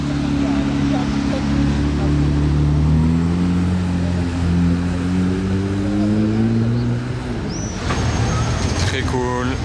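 A Porsche 997 GT3 RS sports car on the streets of Monaco during Grand Prix weekend, its engine droning loudly and close with a steadily rising pitch. A voice speaks briefly near the end.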